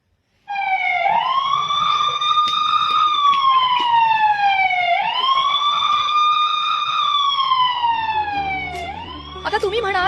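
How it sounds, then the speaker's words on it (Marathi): A village siren wails in Jakekurwadi, Umarga taluka, Osmanabad, sounding at 6 pm to mark study time, with a loud, steady rising and falling tone that sweeps through two long cycles and dominates the scene. "उस्मानाबादच्या उमरगा तालुक्यातील जकेकुरवाडीमध्ये रोज संध्याकाळी 6 वाजता गावात हा सायरन वाजतो"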